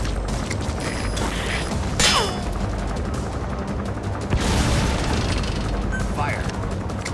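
Missile launches and explosions against a gunship in Metal Gear Solid 5: loud booming blasts near the two- and four-second marks over continuous rattling gunfire and heavy rotor-like rumble, with a voice talking throughout.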